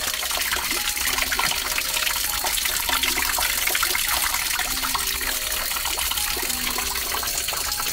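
Water trickles and gurgles steadily through a drain beneath stones at a shrine, a continuous close hiss with faint repeating dripping tones.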